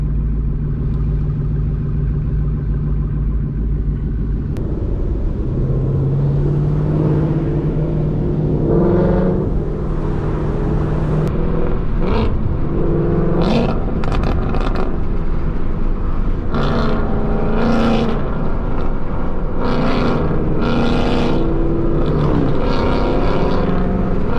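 A deep, throaty boosted Ford Mustang Coyote V8 engine rumbles steadily, swelling and dropping as it revs repeatedly, loud and close throughout.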